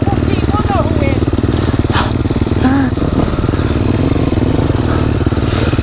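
A motorcycle runs flat out on a supercross track, its engine a loud, continuous raspy drone held at full throttle throughout, while voices talk over it.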